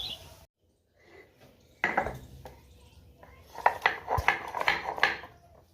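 Spices are ground by hand on a stone grinding slab and pestle, making near, rough scraping rubs and knocks in short uneven bursts after a brief silent pause.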